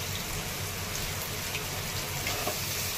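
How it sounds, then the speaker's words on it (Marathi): Tomato with roasted coconut, garlic, ginger and salt frying in hot oil for a cauliflower curry, a steady, even sizzle close by with no pauses. "तर टोमॅटो हे छान परतायला लागलेलं आहे"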